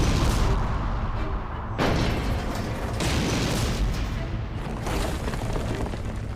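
Cartoon explosion as the moon is destroyed in a space battle in Regular Show: a sustained, loud rumbling blast with several booming surges over about six seconds.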